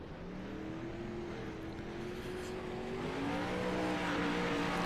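360 sprint cars lap a dirt track at Lanier during practice, their engines droning loud and steady with rising and falling pitch as the cars circle, the roar swelling slightly toward the end.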